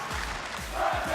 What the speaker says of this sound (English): You can hear the crowd yourself